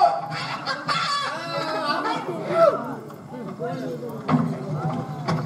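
A chicken clucks and squawks in short bursts at a live village stage drama, close and fairly loud, mixed with a man's chatter and speech throughout.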